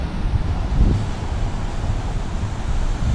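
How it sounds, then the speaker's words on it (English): Ocean waves rolling onto Pala Beach in Ban Chang, Rayong, Thailand, a steady broadband wash with gusty wind buffeting the microphone throughout, no voices. "listen to the sound of the waves here for a minute"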